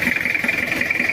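A cold Toyota Kijang diesel engine idles roughly and misfires, producing a brief, close, uneven knocking clatter over a steady mid-pitched mechanical hum, with no voices.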